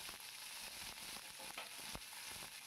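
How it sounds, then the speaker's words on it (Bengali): Drumstick pieces stirred and fried in hot tempering in a pan, a faint continuous sizzle with soft scraping of the spoon and no talking. "তখন আমি সজনে ডাঁটাগুলো হালকা করে একটু নাড়াচাড়া করে নেব।"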